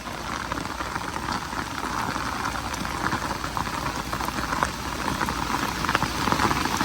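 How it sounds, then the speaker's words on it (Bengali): Heavy rain pours down in a steady, dense hiss and patter, loud and close throughout with no voices, the kind of downpour that floods ground within minutes and threatens harvested paddy. "দেখেন কি পরিমাণ বৃষ্টি নামছে"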